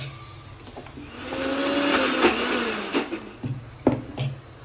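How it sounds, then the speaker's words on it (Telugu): A kitchen mixer grinder runs steadily, grinding raw gongura leaves with prawn shells into chutney, its motor whir filling the clip with a few clatters near the end. "కచ్చా పచ్చగా మిక్సీ పట్టుకుందాం"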